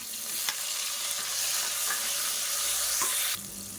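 Whole shallots, four garlic cloves and a medium tomato fry in oil for a brinjal curry, giving a steady, close, continuous sizzle with a few soft stirring knocks. The sizzle drops slightly in intensity just before the end.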